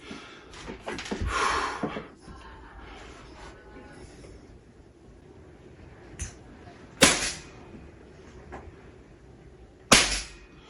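Shots from a Steyr Hunting 5 Auto rifle at an outdoor range: two sharp, loud cracks spaced about three seconds apart, preceded by softer rustling and faint handling noise.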